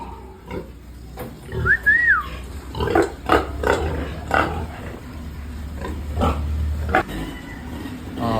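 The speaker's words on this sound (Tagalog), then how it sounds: "Baboy check!" Pigs grunt repeatedly at close range, with a few higher squeals breaking through, over a steady low rumble of background noise.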